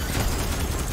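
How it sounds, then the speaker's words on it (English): A loud explosion in the Starship Troopers Extermination video game: a dense, roaring blast of noise that fills the whole second without letting up. "I hear something blowing up?"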